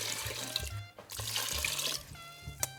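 Water from a kitchen tap runs steadily into a soup pot as ten cups go in for Jerusalem artichoke soup with tomatoes, a continuous close splashing stream with a brief pause midway.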